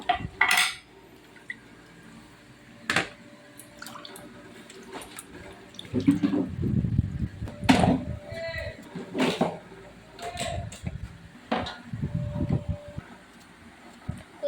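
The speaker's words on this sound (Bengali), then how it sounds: "আলু কুমড়ো পুঁই শাক একসাথে কাটা হয়ে গেছে সব একসাথে মিলিয়ে আমি ধুয়ে নিচ্ছি খুব ভালো করে ধুয়ে নেব" Cut potato, pumpkin and malabar spinach are washed in a vessel of water, with intermittent sloshing, splashes and clattering dishes, under occasional talk.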